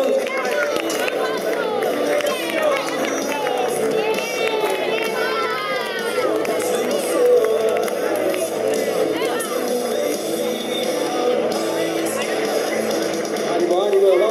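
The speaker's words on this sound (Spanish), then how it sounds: "Un fuerte aplauso para ellos," A crowd of spectators at a San Silvestre New Year's race cheers and shouts for passing runners, children's voices among them, a dense continuous roar under an announcer's voice.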